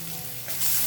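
Garlic and chillies fry in a hot pan, giving a steady close sizzle that swells louder and brighter toward the end, with no voices.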